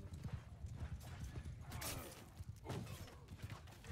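Horse hooves pounding during a cavalry battle in a medieval PvP video game, a fast busy clatter mixed with battle noise and bursts of crowd din, with some voices.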